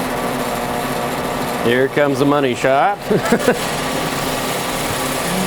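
A drill press runs with a steady motor hum while boring slowly into a blank of acrylic and wood clamped in place; someone talks over the middle of it.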